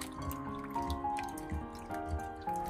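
Dried tangerine peel is rinsed in a bowl of clear water, with soft close sloshing, trickling and scattered drips over a quiet background.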